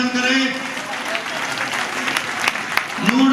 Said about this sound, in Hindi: इनके जोरदार तालियों से स्वागत व अभिनंदन करें।